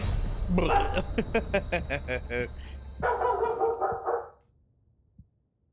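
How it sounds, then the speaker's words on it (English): A large dog barks in a rapid run of close, loud barks, then a second burst, with someone talking excitedly over the noise before it falls quiet. "Oh, my big Lokester's barking too"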